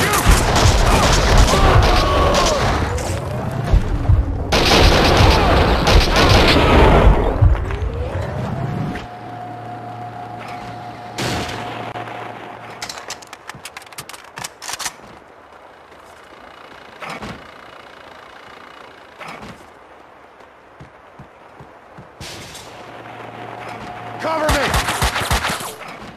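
Heavy bursts of gunfire in Max Payne 2: loud overlapping shots and blasts early on, then a quieter stretch with scattered sharp reports and a steady hum, before another loud burst at the end.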